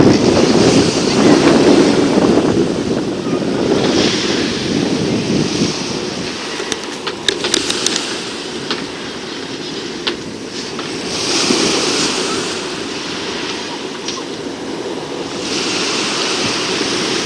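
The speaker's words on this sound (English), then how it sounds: "The same ocean." Ocean surf rolls in at Bray, Ireland, a loud, continuous wash of breaking waves with heavy wind rumble on the microphone and brief clicks partway through.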